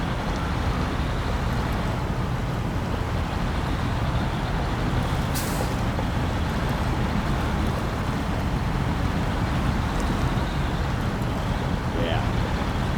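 A GMC truck in SnowRunner drives with a constant loud engine drone and rumble, steady throughout, with a sharp hiss of air partway through.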